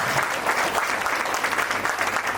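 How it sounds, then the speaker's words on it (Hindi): Steady, loud applause from a crowd at a senior trainers' and workers' conference, dense continuous clapping filling the room without pause. "इनके नाम से जोरदार ताली बजा दीजिए"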